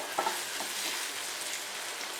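Small cut banana pieces fry gently in a pan for a Malabar egg and coconut snack, giving a soft, steady sizzle with a couple of light clicks near the start and no voices.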